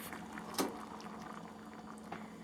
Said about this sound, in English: as soon as it comes up to a nice boil